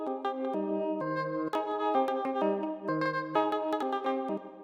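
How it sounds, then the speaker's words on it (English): A granular guitar sample built from a self-played guitar, processed into a smeared, shimmering sequence of sustained pitched tones that shift from note to note, heard alone. "So the next thing I've got here is this granular guitar sample,"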